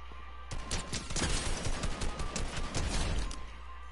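Sustained automatic gunfire from a video game, a close, rapid stream of shots lasting about three seconds with no talk over it.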